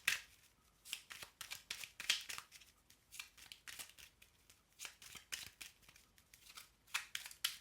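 Tarot cards are shuffled by hand before a nine-card spread, a close series of crisp riffling and flapping bursts in an irregular rhythm with brief quiet gaps between them.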